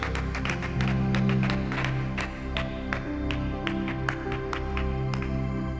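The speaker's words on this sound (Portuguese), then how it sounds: "Pode aplaudir a presença de Jesus aqui esta noite." Congregation in a church service applauding, steady dense clapping with scattered sharper claps over a sustained low musical drone, fairly even loudness for several seconds.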